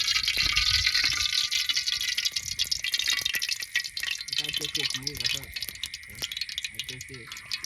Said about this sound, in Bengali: আমাদের কড়াই গরম হয়েছে ওই জন্য তেল দিয়েছি